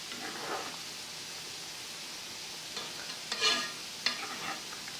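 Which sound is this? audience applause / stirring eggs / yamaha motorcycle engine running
stirring eggs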